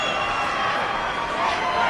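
Wrestling arena crowd on RAW cheering for Lita during her match against Gail Kim, a dense, steady roar of many voices filling the whole stretch at even loudness.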